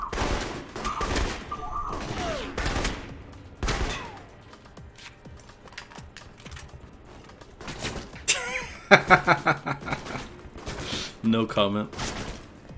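Bursts of enemy gunfire in the video game Alpha Protocol, with irregular sharp shots and rapid volleys scattered through the scene, mixed with a player's talk and in-game voices.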